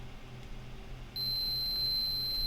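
A continuity tester gives a steady high-pitched electronic beep that starts abruptly and holds continuously over a quiet low hum.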